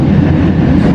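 The Tegal Bahari economy train rolls along the rails from Tegal toward Jakarta, heard from inside the carriage as a loud, steady low rumble with a continuous rolling drone and no talk.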